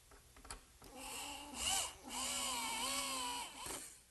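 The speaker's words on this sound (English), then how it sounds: "And we'll screw that together at each of the corners." A power drill whirs in two sustained bursts, pitch dipping as it drives a screw into wood, with short clicks and taps around it.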